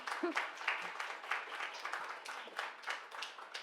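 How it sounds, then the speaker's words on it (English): An audience at a book preview event gives a round of applause, a soft, steady wash of many hands clapping from a distance, with murmured voices mixed in. "please give them a round of applause"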